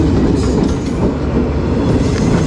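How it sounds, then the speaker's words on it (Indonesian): A train passing close by through a neighborhood level crossing in Tanjung Priok, Jakarta, a loud continuous rumble with rhythmic clickety-clack of wheels over rails, filling the whole stretch without talk. "Oh, sebentar keretanya lewat."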